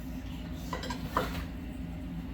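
A potato masher clinks against a bowl while working flour, brown sugar, salt, cinnamon and softened butter into a crumble topping, a few quiet scraping clatters in a short burst.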